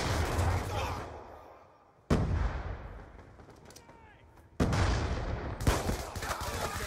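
Sniper rifle fire in the shooter game Black Ops 2, two sharp loud cracks a couple of seconds apart, each trailing into a long echoing tail over a busy background of battle noise.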